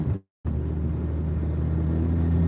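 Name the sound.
BMW 335d engine with a massive boost leak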